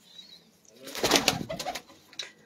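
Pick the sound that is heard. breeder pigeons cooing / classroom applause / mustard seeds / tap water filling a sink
breeder pigeons cooing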